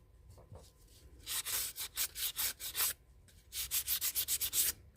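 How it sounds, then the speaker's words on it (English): Light hand sanding of a resin-concrete coaster: quick, rhythmic scratchy strokes in two bursts, close and fairly loud, with a short pause between them. "I'm not sanding real heavy either."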